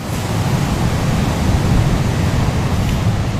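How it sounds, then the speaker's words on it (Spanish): Strong ocean surf at the port of La Libertad on the Salvadoran coast, heavy waves washing over the pier, a loud continuous roaring wash of water with no voices. "Solo vea usted, el fuerte oleaje cubría el muelle en el puerto de La Libertad"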